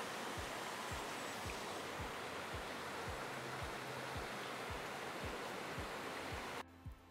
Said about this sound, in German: den Bach noch für Sie einzufangen, der hier so munter vor sich hin plätschert